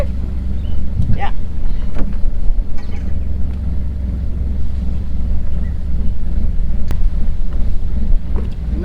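A sailboat's engine rumbles steadily at low pitch as it is put in gear while leaving the dock, with wind buffeting and a few knocks and people talking nearby.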